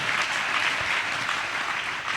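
Audience applause fills a hall during a youth camp session, a dense, steady clapping that carries evenly from start to finish with no voices over it.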